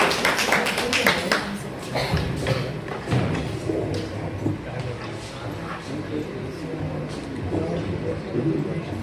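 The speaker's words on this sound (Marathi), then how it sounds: "त्यासाठी जोरदार टाळ्या." Loud applause in a hall greets a play-reading performer at a Mumbai medical college centenary event, dense clapping with a few sharp thuds sustained for several seconds.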